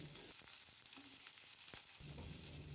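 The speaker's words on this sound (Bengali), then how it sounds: "ফোড়নটা ভাজা হয়ে গেলে কুচনো পেঁয়াজ দিয়ে দিচ্ছি" Chopped onion fries in oil with bay leaf and whole cumin, giving a faint, steady sizzle that is broken by a few soft scrapes and clicks.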